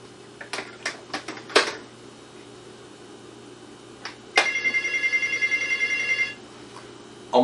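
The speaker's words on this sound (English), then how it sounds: "that's her ringtone." A telephone rings with a bright, warbling electronic tone lasting about two seconds, following a few scattered clicks and taps.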